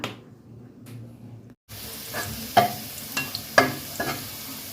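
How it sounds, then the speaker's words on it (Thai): Garlic frying in a pan until golden: a steady soft sizzle, with a spatula scraping and stirring at intervals, several sharper clinks and taps against the pan, no one talking. "เจียวกระเทียมให้เหลืองเลยนะคะ"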